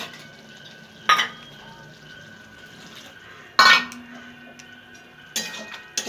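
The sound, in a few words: stirring poppy seed paste in a pan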